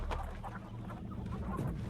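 A chicken clucks in short repeated bursts, close and quiet, over a low background murmur.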